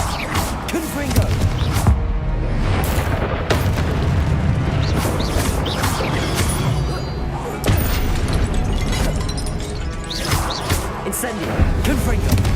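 Confringo spell explosions in the game Hogwarts Legacy, loud booming blasts and crashes over a constant roar of combat, with spoken spell names heard through the noise.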